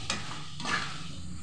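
Raw mango chutney with crushed red chili and turmeric is stirred in a pan over a low flame, giving a couple of short, close scraping strokes over a soft sizzle, with no talking.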